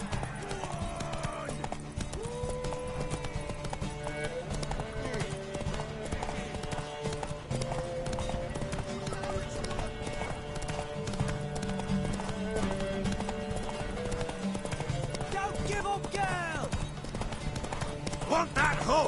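Horse hooves clip-clopping in The Witcher 3 on PS4, a steady trotting rhythm with occasional whinnies beneath game music and character dialogue.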